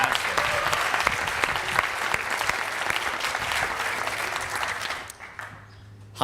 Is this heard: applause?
yes